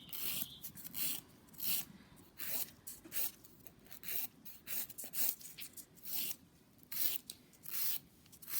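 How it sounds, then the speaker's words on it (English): Acrylic nail extension filed with a 180 grit file, a close, quiet rhythmic scratchy rasping in repeated short strokes, about a dozen back-and-forth passes with brief pauses, no voices. "using your 180 grit file again, 100 or 100 side, or 180 side."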